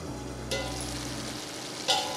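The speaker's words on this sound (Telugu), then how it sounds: "ఇప్పుడు ఒక 3 నిమిషంల పాటు మనం మూత పెట్టి ఈ ఆకును వేయించుదాం." Spinach (bachali) leaves fry in a covered pan with a steady close sizzle, broken by two brief louder bursts as the pan is disturbed.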